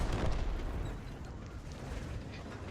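A tier 2 AT-1 tank destroyer in World of Tanks fires its gun at an enemy vehicle on the move, a muffled heavy boom at the start that rolls off into a steady rumbling wash of engine and battle noise.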